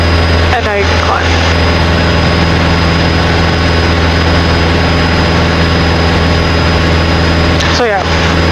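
Small training airplane engine running at full power in a steady, loud, close drone inside the cockpit during a climb, with brief intercom crackles at the start and the end.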